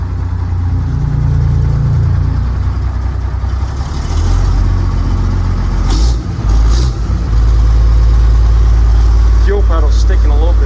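A heavy diesel engine of an off-road M18x Mack truck idles with a steady, loud low rumble, rough and continuous, with brief clatter and a voice briefly audible near the end.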